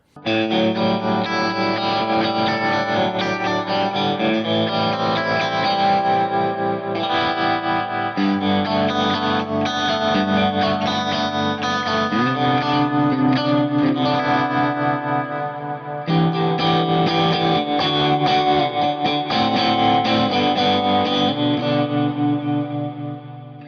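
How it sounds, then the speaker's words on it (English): A sustained electric guitar passage through Boss pedal effects, thick with overdrive, swirling chorus and echoing repeats, played continuously with chord changes and no talking. "it also has a lot of Boss effects, so like tremolo, chorus, delays and reverbs, overdrives"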